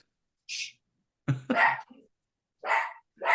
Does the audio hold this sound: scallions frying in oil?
no